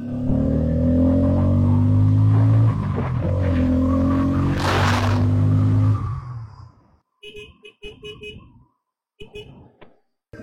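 A Bajaj Pulsar N250 motorcycle rides with a loud, droning engine note that holds steady, then fades quickly as the bike brakes to a stop, followed by someone talking over near-quiet.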